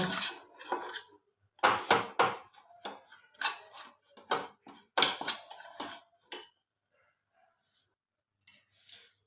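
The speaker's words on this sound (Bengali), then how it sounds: "এবার সমস্ত মশলা ভালো করে মিশিয়ে নেব" Spices are worked into chicken pieces in a bowl, giving irregular clinks and scrapes of a utensil against the dish. The bursts come in quick clusters, then taper off into near silence with a few faint taps. No voices.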